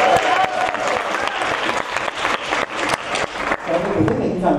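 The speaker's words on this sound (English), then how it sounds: "Big round of applause for Kevin." A crowd at a D23 Country Bear Jamboree event applauds, uneven clapping with distinct sharp claps and cheering voices mixed in, loud and close.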